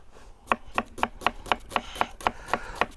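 A knife finely chopping an onion on a board, about ten crisp, evenly spaced taps in a steady quick rhythm, close and alone.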